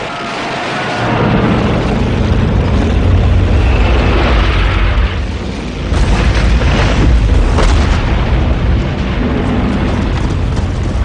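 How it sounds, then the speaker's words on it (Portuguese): A Soviet Katyusha rocket launcher barrage from a WWII offensive roars with loud, continuous rumbling booms and blasts that overlap densely, swelling and easing without pause throughout. "bombardeando-as com lançadores de foguetes que eles chamam de órgãos de Stalin"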